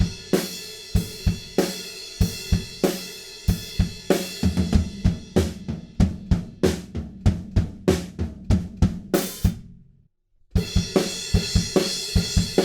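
A drum kit plays four bars of a song leading into a tom section: steady kick and snare hits with hi-hat wash, loud and close, stopping briefly near the end before the toms come in.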